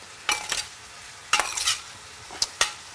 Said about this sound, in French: on va commencer à mélanger nos courgettes et nos aubergines